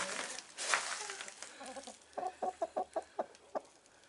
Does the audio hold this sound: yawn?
no